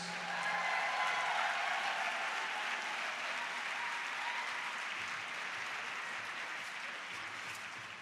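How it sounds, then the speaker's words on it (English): A convention audience applauds panel speakers being introduced, a long, steady roar of clapping hands that stays loud and dense, thinning only slightly toward the end. "Give a huge round of applause"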